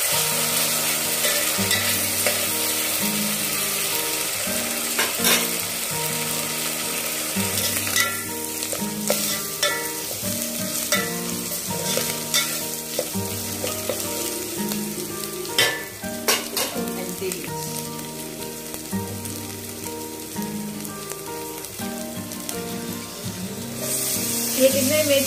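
Meat fries in a pan for methi chicken while being stirred, producing a loud, close, sustained sizzle broken by repeated scraping strokes of the spoon over the full stretch.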